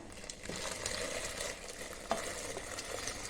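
A quiet, steady bubbling and gentle simmering hiss of water boiling in a pot for sago, with faint small pops, and no voices.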